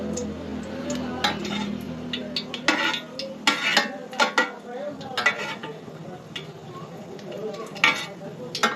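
Cashew nuts fry in a pan for veg biryani, a soft steady sizzle under scraping and stirring, with sharp clinks of a spoon against the pan coming in irregular bursts; close and moderately loud.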